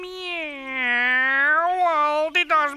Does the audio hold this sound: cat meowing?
yes